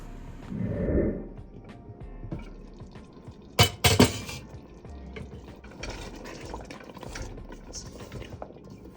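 A meat and potato curry is stirred in a pot, with a few quick clanks and scrapes in the middle over quiet simmering and bubbling.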